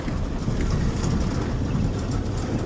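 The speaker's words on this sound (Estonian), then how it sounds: "see on tutikas traktor." A brand new tractor hauls soil from one end of a field to the other on an Australian farm, giving a steady, fairly loud low rumble with broadband engine and ground noise throughout and no talking.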